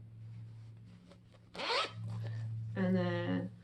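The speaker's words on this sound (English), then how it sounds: "Here's the zipper." Zipper on a fabric pouch made of orange tangerine-print fabric, pulled in two quick, close rasping strokes over a faint background hum.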